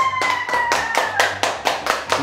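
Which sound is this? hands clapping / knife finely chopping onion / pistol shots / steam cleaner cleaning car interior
hands clapping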